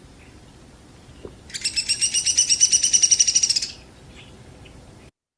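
A hairy or downy woodpecker in Kentucky woods gives a rapid whinny-like series of sharp, evenly spaced notes lasting about two seconds, fairly loud and clear over faint background hiss.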